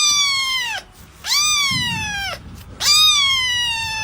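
Scared kitten meowing in three distinct, high, drawn-out cries, each a clear wavering call separated by short pauses, close and loud.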